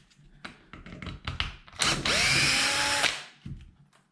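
Power tool driving out small case retaining bolts on a fifth-scale Kraken VESLA RC car, a loud close whirring burst of about a second amid clicks and handling knocks.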